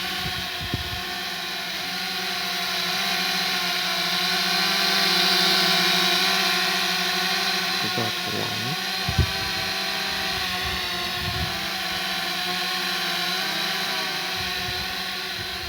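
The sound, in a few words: remote-controlled DHD D5 drone motors flying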